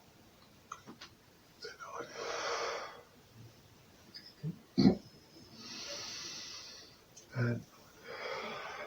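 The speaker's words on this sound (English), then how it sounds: "We're breathing in and coming down." Slow, deep breaths drawn in and pushed out during a standing trunk exercise with feet wide apart, several long airy rushes separated by pauses, close and moderately loud, with a guiding voice saying a word or two between them.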